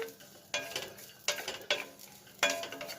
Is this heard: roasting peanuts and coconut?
yes